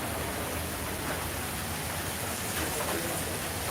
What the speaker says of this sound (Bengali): এই যে গ্রামগঞ্জে বৃষ্টি পড়ছে ধান খেতে এবং গাছের উপরে